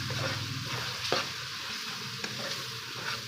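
Spice masala for a dhaba-style chana dal fry is stirred in a pan, a soft close sizzle punctuated by a few distinct spoon scrapes against the metal, with no talking.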